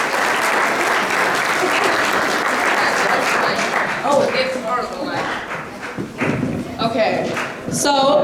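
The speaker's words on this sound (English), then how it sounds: "So a round of applause to our seniors." Audience applause for high school seniors at a school theater production, a steady dense clapping crowd that fills most of the clip before thinning toward the end, with voices audible over it.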